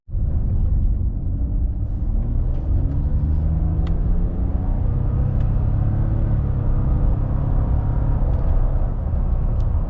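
A truck heading to a tire shop on the road, a steady low engine rumble and road drone, close and continuous, with no voices.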